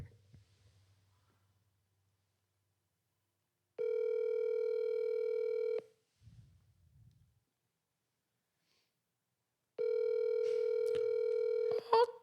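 A telephone dial tone on an outgoing call sounds in two long, steady bursts separated by several seconds of near silence, with a brief low murmur between them and a short rustle at the end.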